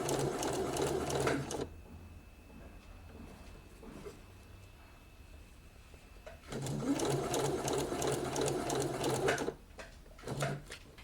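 A sewing machine stitches ribbon onto a fabric edge for a blouse sleeve in two loud, steady runs separated by a quiet pause, followed by a brief final burst.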